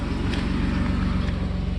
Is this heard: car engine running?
yes